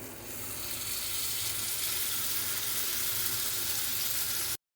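Masala paste for an egg gravy sizzles and fries steadily in hot oil, a close, continuous crackling hiss that starts abruptly and cuts off at the end, with no voices.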